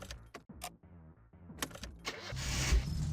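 A car engine in the My Summer Car video game cranks with the throttle pumped, several uneven starter turns, then catches and settles into a loud, steady running idle close by.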